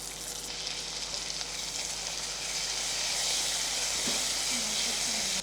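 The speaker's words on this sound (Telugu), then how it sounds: "మంచి నూనెలో పోపు ఎగుతుంటే దాంతోపాటు అల్లం కూడా ఉంటే ఎంత కమ్మగా ఉంటుంది" Ginger and fenugreek leaves frying in oil as a tempering, a dense steady hiss of sizzling that swells slightly louder partway through, close and continuous with no talk over it.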